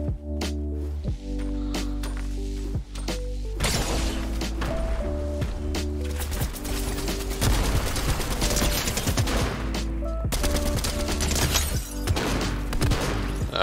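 Rapid bursts of gunfire from the video game Fortnite crackle and rattle continuously at close range, with repeated sharp shots over steady game sounds.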